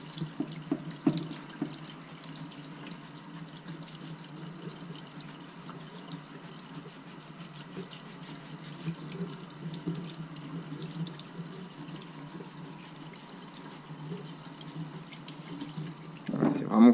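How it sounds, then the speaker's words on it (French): Warm tap water runs steadily over a Pipercross air filter as it is rinsed and kneaded by hand in a sink. The flow is soft and continuous, with a faint voice in the background and a louder splash at the very end. "je prends de l'eau tiède, pas me cramer les mains non plus, mais légèrement chaude"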